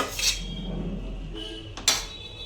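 A spoon knocks and scrapes against a pot as rice is layered over chicken for dum biryani, with a few brief metallic clinks, close and fairly quiet.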